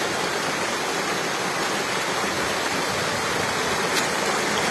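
Mountain spring water at the Ağdere spring source in Erkenek, Malatya flows and splashes continuously, a loud, steady broadband rush with no voices.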